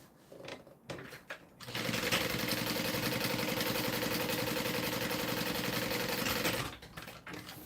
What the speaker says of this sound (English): So I'm going to top stitch right along the top of the black bottom.